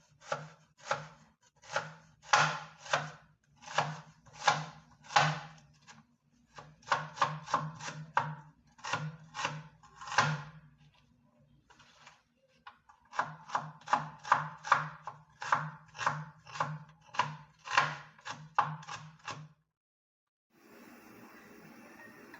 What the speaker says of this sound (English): Chop the onion anyway.